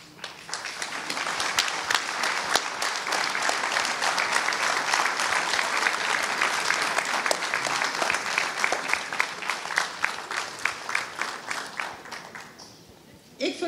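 An audience gives loud, sustained applause for former board members standing at a ceremony. The dense clapping swells and holds, then thins toward the end before a brief final burst.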